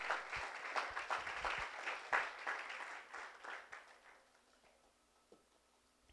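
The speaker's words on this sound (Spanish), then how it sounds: "No sé si le puede dar un aplauso al Señor" A church congregation at a Spanish-language service gives a brief round of light, scattered clapping that thins out and fades into near silence, fairly quiet and distant.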